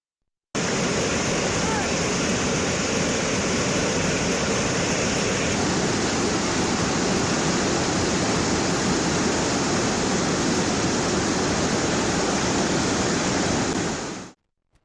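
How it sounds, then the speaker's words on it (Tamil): Floodwater of the Arani and Kamandala Naganadhi rivers surges over their banks in a steady, loud, broadband roar that holds without a break for about fourteen seconds, with no voices. "இதனால் ஆரணி, கமண்டல நாகநதி ஆற்றில் வெள்ளம் கரை புரள்கிறது."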